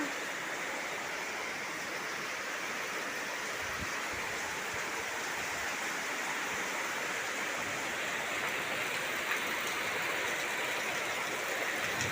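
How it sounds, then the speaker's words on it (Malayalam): Steady rushing water flows near a riverside or canal spot with coconut palms and swaying trees, a continuous broadband wash holding even and fairly loud for the whole stretch, with no voices over it. "ഇവിടെ വെള്ളം വരണുണ്ട് കേട്ടാ."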